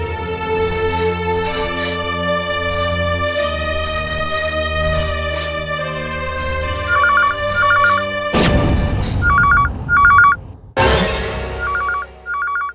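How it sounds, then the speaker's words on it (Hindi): A telephone rings amid a tense crime drama scene, with repeated short electronic ring bursts in the latter half over dramatic music and crashing hits, no speech. "सिन्हा साहब, फोन उठाइए और बात कीजिए।"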